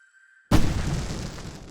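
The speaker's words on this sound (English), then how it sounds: "I can set off more of the fireworks from here and help you out!" Fireworks in Alan Wake go off with a single loud, sudden boom after near silence, then a rumbling decay that lingers for about a second.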